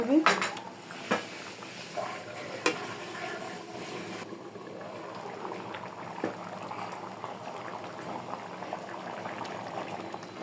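Masoor dal bhuna simmering in a covered pot on low heat, with a few bright clanks of pot and utensils at the start, then a steady soft bubbling that continues alone.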